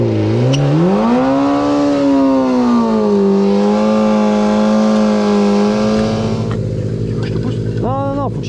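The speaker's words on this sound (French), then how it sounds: "je vais vous faire un onboard avec la moto maintenant" Heard onboard, a twin-cylinder dragster scooter accelerates hard at a French drag racing weekend. The loud, close engine note climbs in pitch, holds steady, then drops and rises again in quick short revs at the end.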